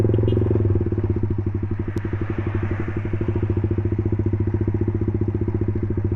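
A Suzuki Satria FU 150 motorcycle with a rebuilt, modified engine idles close by, with a steady, fast, even putter and a faint metallic clatter throughout.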